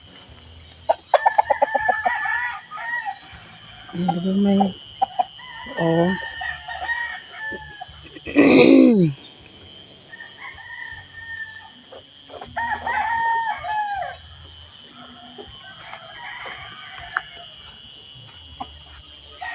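Chickens and roosters at a rural farm at dawn, with several clucks and one loud, close crow standing out, and more calls scattered across the stretch; someone speaks briefly in between.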